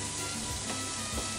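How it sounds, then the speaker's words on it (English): Komatsuna and onion fry in a pan with a steady, close sizzle, a few soft stirring scrapes breaking the constant crackle. "After frying komatsuna"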